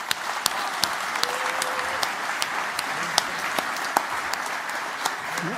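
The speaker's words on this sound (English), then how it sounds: "let's give an applause for Evan" Steady audience applause during a journalism panel discussion, moderate in level and continuous for several seconds with sharp individual claps standing out from the crowd.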